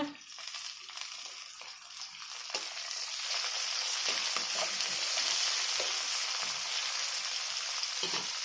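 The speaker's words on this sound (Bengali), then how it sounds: "এগুলোকে আর একটু ভেজে নিই তারপর এগুলো একটু একটু নুন দেবো ক্যাপসিকামগুলো ভেজে নেব" Capsicum, tomato and onion frying in a pan, a steady sizzle with stirring scrapes that grows louder and fuller partway through, no talking.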